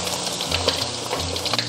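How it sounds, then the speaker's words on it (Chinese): Shrimp deep-fry in oil over medium-low heat for crispy Northeastern-style sweet-and-sour guo bao shrimp. A loud, dense, continuous bubbling sizzle sounds close up, with no voices. "炸这个虾的时候，我们也不要去动它，让它定型，我们再动哈，避免给它脱浆了。"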